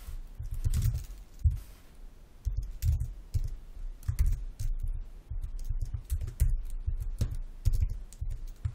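Typing CSS code on a computer keyboard, with irregular bursts of close, soft key clicks and thumps that pause briefly between runs, no voices.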